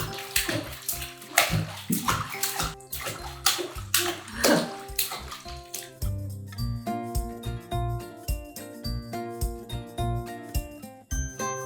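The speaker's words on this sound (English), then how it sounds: "Final splash splash before Mama gets you out." A baby splashes in bath water, irregular slaps and sloshes loud and near for several seconds, then softer trickles mixed with bright tinkling music in the background.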